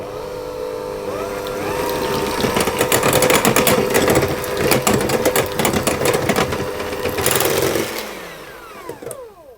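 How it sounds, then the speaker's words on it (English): Electric whisk whipping cream to soft peaks for a blueberry sponge with lemon mascarpone: a steady whirring motor drone with rattling beater clatter against the bowl, fairly close and continuous, winding down near the end. "then I'm going to whisk that until it begins to form soft"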